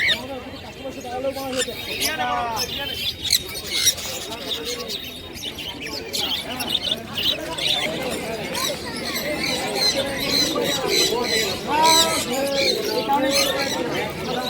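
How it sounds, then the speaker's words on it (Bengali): Pigeons coo repeatedly at a crowded outdoor bird market selling pigeon pairs and cockatiels, mixed with chirps of other birds and a steady background of people talking throughout. "পুরো গরম পায়রা খুব সুন্দর ডাক করছে পায়রা দুটো"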